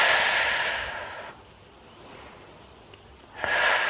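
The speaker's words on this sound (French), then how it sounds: "toujours on inspire, on expire par le nez" Close breathing in and out through the nose during a beginner core plank exercise: a long noisy breath fading at about 1.3 seconds, a quieter pause, then another breath starting near the end, with no talking.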